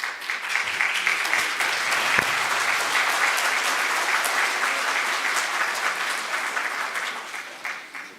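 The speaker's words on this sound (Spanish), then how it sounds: "Lo recibimos con un aplauso." A church audience at a Liturgy of the Hours and Lectio Divina gathering applauds to welcome Father José Martín: a dense, steady round of clapping that holds for several seconds, then thins out near the end.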